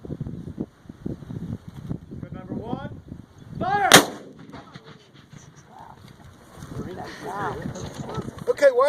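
Civil War cannon at Gettysburg firing once, a sharp loud blast booming out around four seconds in, between stretches of people talking before and after.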